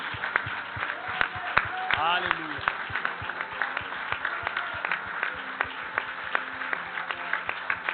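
A church congregation at a family service applauds a preacher, steady scattered clapping at moderate distance while a voice calls out over it.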